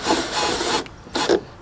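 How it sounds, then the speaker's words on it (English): Short scraping, grinding bursts of a tapered drill bit enlarging screw holes in wood on an Aliner camper, two quick passes separated by a brief pause, close up. "I'm taking a tapered drill bit and I'm making the holes a"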